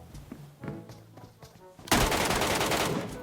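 Gunfire in the online shooter Metro Royale: a few scattered shots first, then a sudden loud, sustained automatic burst that fills the rest of the moment, with no one speaking.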